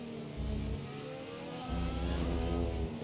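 A Ferrari Formula 1 car's engine in the F1 2021 racing game at Imola holds a steady mid-pitched whine, swelling twice as it revs up in the foreground.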